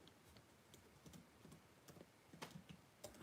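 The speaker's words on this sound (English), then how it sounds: "I'm typing with one hand" Light, irregular keystrokes on a computer keyboard, tapped out with one hand in short uneven bursts, close and quiet with no talking.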